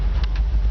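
A 1958 GMC 100 Apache Fleetside pickup with a Chevy 350 V8 and a 350 turbo automatic, on a 1974 Silverado frame, gives a brief, steady, deep engine rumble heard from close by.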